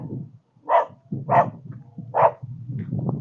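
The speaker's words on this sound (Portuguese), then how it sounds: "O cachorro tá bravo." An angry dog barks outside a house with a locked gate, three sharp, loud barks spaced roughly evenly apart over steady low background noise.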